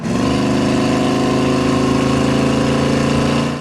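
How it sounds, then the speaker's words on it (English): A 1967 Chevrolet El Camino's 454 V8 revs under throttle, its deep, throbbing dual exhaust loud and steady for a few seconds, then easing off. "Has a good combo sound of hearing the motor and also hearing the exhaust."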